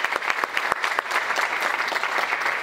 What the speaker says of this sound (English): A big round of applause for Sarah.